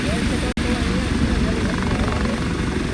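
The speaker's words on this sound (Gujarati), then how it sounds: "અહીંયા એ હેલિકોપ્ટર છે એ ઉડાન ભરી લીધી છે" A helicopter taking off roars loudly and steadily nearby, its rotor thrum and engine drone filling the scene with a brief dropout early on.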